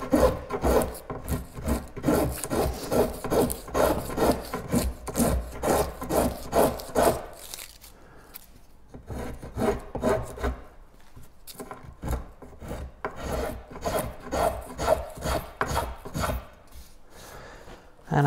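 A rasp shapes a wooden paddle in fast, rhythmic scraping strokes, loud and close. The strokes pause briefly midway, then resume steadily.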